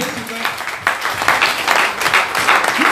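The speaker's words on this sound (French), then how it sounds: "Acclame Jésus encore, acclame Jésus." A church congregation applauds, a dense wash of clapping that swells and carries on throughout, with a voice calling out over the crowd.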